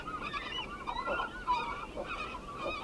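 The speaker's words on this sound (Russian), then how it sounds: "Это бакланы, которых за черное оперение еще называют морскими воронами" A cormorant colony in the Selenga River delta at Lake Baikal gives repeated honking, goose-like calls that overlap in a steady, moderately distant chorus over faint background noise.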